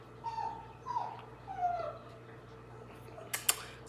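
A dog whimpers indoors, several soft high whines in a row followed by a brief sharper yip, faint and close in a quiet room.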